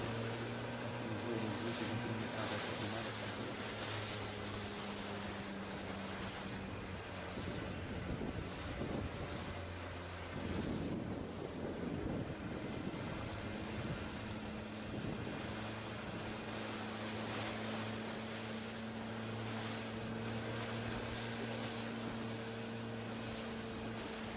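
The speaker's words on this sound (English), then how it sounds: "we really have very nice waves" Sea waves roll and wash against a sailing boat's hull, steady and broad, heavily mixed with strong wind buffeting the microphone and a low engine-like drone, no voices.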